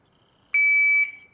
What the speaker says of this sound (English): Once you hear the beep, it's all on you.